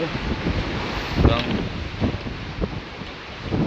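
Big waves and strong wind out at sea aboard a small boat, a loud, constant roar of wind buffeting the microphone with surging water and the thud of swells, while a voice speaks faintly underneath.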